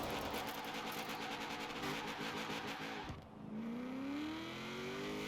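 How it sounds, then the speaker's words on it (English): Supercharged V8 engine in a widebody Honda S2000 drift build in Forza Horizon 4, a loud buzzing rev with rapid pulses, a brief dip as it shifts, then a rising pitch as it pulls through the next gear. "Oh yeah, listen to that supercharged V8"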